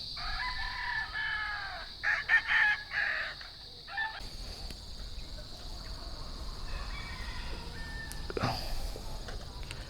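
Chickens and roosters at a chicken farm crow repeatedly, with the loudest calls in the first few seconds and more distant crowing and clucking continuing over a steady outdoor background.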